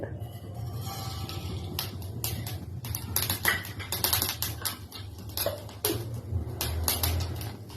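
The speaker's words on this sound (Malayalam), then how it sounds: "അടുത്തതായിട്ട് ആവശ്യത്തിന് കടുക്." Mustard seeds splutter in hot oil for a spinach thoran, making dense, irregular crackles and sharp pops that come in quick bursts over a low background rumble.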